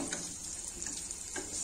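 Onion frying in a pan for a raw coconut chutney, a steady soft sizzle with a few faint stirring scrapes, heard alone without talk.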